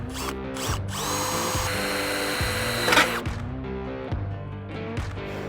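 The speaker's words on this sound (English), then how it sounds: "Now we're going to drill our 3/16 hole." A power drill boring a 3/16-inch hole in a Toyota Tacoma hood whirs steadily nearby, its motor pitch shifting as it cuts, with brief pauses and restarts.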